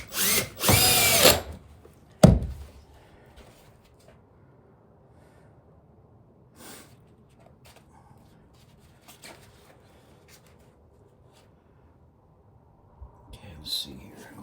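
A power drill drives a screw and washer into a workbench, fastening an old rubber nylon mill belt: one loud, close burst of whirring lasting about a second, then a sharp knock and quiet handling noises.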